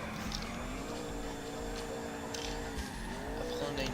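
Nissan Silvia S14 drifting in GTA 4, a steady engine drone with tire squeal running throughout, close and continuous, with brief brighter screeches near the middle and end.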